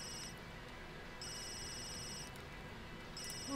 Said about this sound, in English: The phone is so annoying.